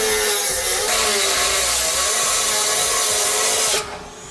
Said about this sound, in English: I'm going to use a Dremel tool with a cutting wheel on it